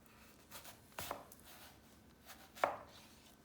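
Kitchen knife cutting down through the middle of an onion on a board, two distinct quiet chops about a second and a half apart against near silence.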